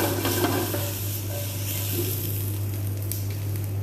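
Capsicum sautéing in oil in a hot pan gives a steady, close sizzle with a few stirring scrapes over a constant low hum; no one speaks.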